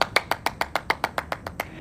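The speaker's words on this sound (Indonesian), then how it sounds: "dengan riang gembira Mitsuashi pun langsung tepuk tangan sambil menyemangati Imai" Mitsuashi claps his hands in cheerful encouragement of Imai, a dozen evenly spaced, crisp claps in a steady rhythm, close and fairly quiet, with no voices.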